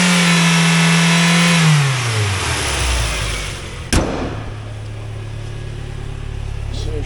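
A 1999 Mazda Miata engine held at a steady high rev, then falling back to a low idle rumble after a sharp click, close and loud throughout.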